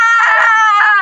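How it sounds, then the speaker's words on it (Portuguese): People on a hiking trail shouting to scare off a snake: one sustained, high, strained vocal cry about a second long, loud and close, with no other sound around it. "Eles estão gritando pra afastar a cobra."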